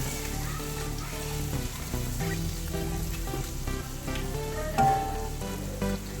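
A spoonful of ground mandi spice mix is stirred into a sizzling pan for chicken mandi rice, giving a steady frying hiss with light stirring beneath continuous background music.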